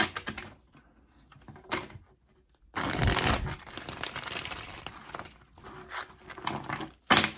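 Tarot cards are shuffled by hand in a quiet room, with soft riffling and sliding bursts, a louder flurry mid-way and scattered taps and card snaps, up close with no talking.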